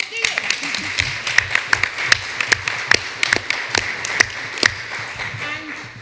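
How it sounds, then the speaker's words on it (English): A conference audience applauds a panel, scattered sharp claps from a modest crowd in a room, fairly close and irregular, thinning out toward the end. "So a big round of applause to you."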